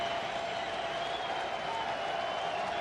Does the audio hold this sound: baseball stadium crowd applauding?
yes